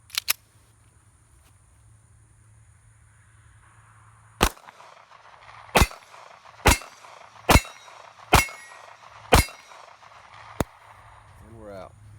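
A Ruger LCP Custom .380 pocket pistol fires six sharp, loud shots at uneven intervals of about a second, each one a crisp crack that quickly fades, with a couple of faint metallic clicks before the first shot.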